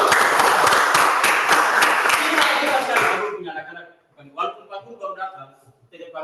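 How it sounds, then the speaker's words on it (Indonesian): Classroom students clap together in a dense burst of applause for about three seconds, which then stops abruptly and gives way to a teacher talking. "Kita berikan aplaus untuk teman-teman."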